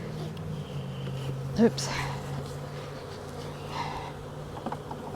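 Honeybees from a swarm being dumped into a hive box, a continuous low buzzing drone under a voice, with a sharp knock of wooden frames midway.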